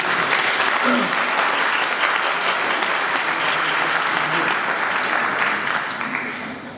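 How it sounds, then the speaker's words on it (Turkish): Loud, sustained applause from a concert audience at a folk music symposium performance by a traditional minstrel, a dense wash of clapping that holds steady and begins to fade near the end. "Ya Burak kuvvetli bir alkış ister değil mi?"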